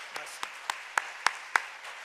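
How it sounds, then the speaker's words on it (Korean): A handful of distinct hand claps ring out one by one at a Christmas church service as the congregation applauds children, sparse and evenly spaced rather than a full ovation, with faint talk beneath. "우리 어린이들을 위해서 박수 한번 넣어주세요"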